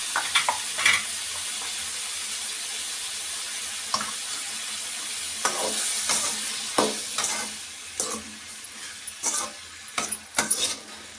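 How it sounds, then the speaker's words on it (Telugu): Tomatoes fry in a pan with salt and spice powder for a tomato curry, giving a continuous bright sizzle with scattered scraping stir strokes, busier toward the end. "కాసేపు వేగనిద్దాం"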